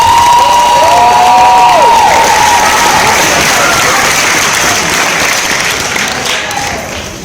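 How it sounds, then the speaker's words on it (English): A large audience applauds loudly and continuously, with a few cheers, the clapping gradually fading toward the end. "Ava DuVernay, a round of applause."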